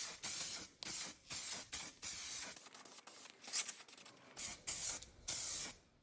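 Aerosol spray paint hissing in short repeated bursts onto a 1979 Honda XR500 side cover, close and loud with brief pauses between passes and no talk.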